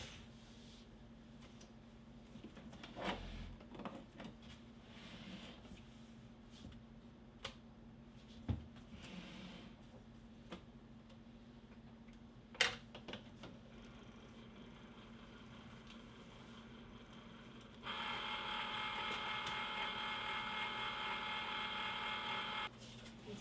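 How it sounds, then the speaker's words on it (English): Cricut Maker cutting machine powering on in a quiet room: after a long stretch of faint handling taps and light knocks, a steady, even mechanical whir starts abruptly and runs unchanged to the end, with no talking. "now I'm gonna turn on the Cricut Maker."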